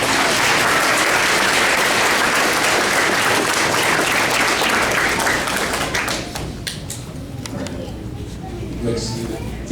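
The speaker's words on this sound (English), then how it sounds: "let's give a big round of applause" A graduation ceremony crowd at Red Lake Nation College delivers loud, full applause that continues for several seconds, then thins into scattered individual claps, with faint talking underneath.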